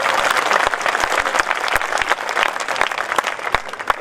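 An audience at a kavi sammelan poetry recital claps together in loud, sustained applause, dense hand claps with a few sharp, distinct claps standing out.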